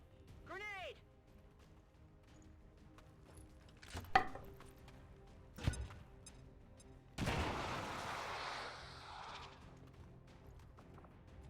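A needle grenade goes off in the video game XCOM 2, a broad loud burst around the middle that decays over several seconds, preceded by a couple of sharp knocks and a brief swooping tone.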